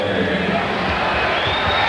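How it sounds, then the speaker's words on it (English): A basketball arena crowd at a 1991 playoff game between the Warriors and Lakers cheers in a broad, steady roar, with indistinct voices mixed in. "the crowd cheers that, which is something they finally cheered tonight"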